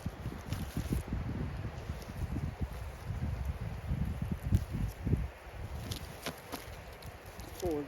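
Strong wind blowing outdoors in Norway, a steady loud rumbling roar with gusty buffeting against the microphone, mixed with rustling and scattered footstep-like thumps nearby.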